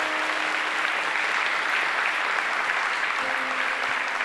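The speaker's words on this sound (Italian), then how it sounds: "Un applauso." Warm applause from an audience at a cultural event in Atzara, steady dense clapping throughout, moderately loud, with a faint low tone beneath and no talk.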